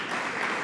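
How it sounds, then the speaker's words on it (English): Brief burst of audience applause at a digital transformation launch event, a short dense wash of many hands clapping at moderate level. "she deserves another round of applause"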